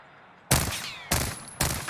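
Three sharp bursts from Diamatti akimbo pistols in Warzone, each a loud close crack with a short ringing tail, spaced roughly half a second apart over a quiet background.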